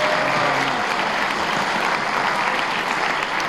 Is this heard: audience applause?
yes